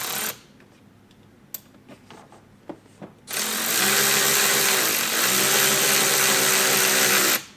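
A power drill drives a number 8 screw with a washer into the upper fender hole of a 2022-2024 BMW X3 M while fitting a mud flap, a steady loud whir running for about four seconds after some quiet handling.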